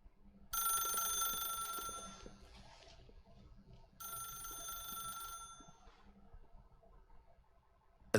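A telephone rings in the video game The Stanley Parable, two long bright trilling bursts separated by a pause, moderately loud over a low background hum.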